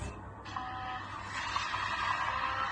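Group B rally car engine, a steady loud roar with a rising high-pitched whine, continuous throughout at a distance, with no talk over it.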